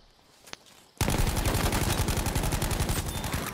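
Gunfire in a video game: a single shot, then a loud sustained automatic burst of rapid, evenly spaced rounds, close and continuous.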